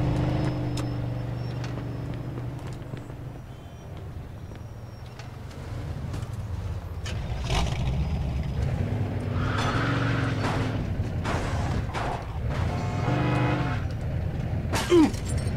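Car engine and tyre noise from Mafia 2 gameplay, a steady drone with rises in revs and brief clattering impacts toward the end, fairly loud throughout.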